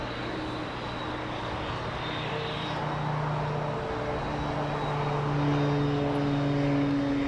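A Beechcraft King Air propeller plane at Los Angeles International Airport drones steadily, a broad engine roar with a low propeller hum that swells slightly toward the end, no voices present.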